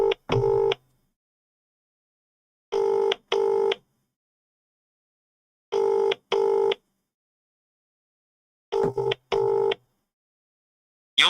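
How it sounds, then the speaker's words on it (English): An outgoing telephone call rings back through a speaker in paired double-burst tones, four pairs spaced a few seconds apart with silence between, clear and moderately loud. "This is ringing too, which is always good."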